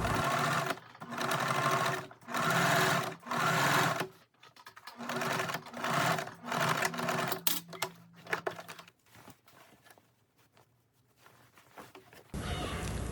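Sewing machine stitching a waistband seam on elastic-banded baggy pants, with 2.5 cm elastic, running in several loud bursts of steady mechanical whirring separated by short pauses, then slower, lighter stitching and a final burst.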